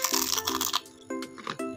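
Crisp bites and crunches into homemade fried wonton skin, a rapid rattling burst followed by a few separate crunches, close to the mic and alone, with no talk.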